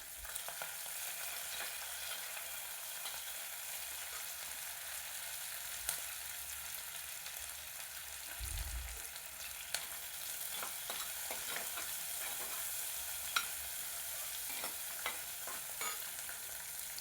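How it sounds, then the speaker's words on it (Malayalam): Crushed ginger, shallots, green chillies and curry leaves are sautéed in a pan with a soft, steady sizzle and occasional stirring clicks, fairly quiet and close, with no voices. "ഈ ചതച്ച് വെച്ചിരിക്കുന്ന ഇഞ്ചി, ചുവന്നുള്ളി, പച്ചമുളക്, കറിവേപ്പില ഇതെല്ലാം ഇട്ടൊന്ന് വഴറ്റാം"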